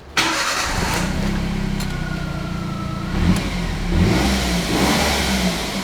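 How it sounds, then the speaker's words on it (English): A car engine with a newly installed turbo bleed valve starts with a sharp catch, then runs loud and steady, rising in a few revs near the end. "start the engine"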